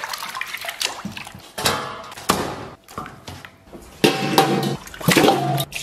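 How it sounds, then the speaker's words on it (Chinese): Pork leg bones are washed by hand with water, with bursts of splashing and running water, sloshing and clunks of bone against the basin in uneven waves, close up. "咱们先拿水把这棒骨给它洗一下。"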